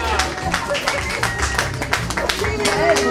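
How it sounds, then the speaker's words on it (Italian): Friends and audience clap and cheer for a New Year's 2018 toast in Alghero, a steady wash of dense applause with voices mixed through it, fairly close and loud throughout. "E allora noi brindiamo al 2018 con l'applauso del pubblico, degli amici"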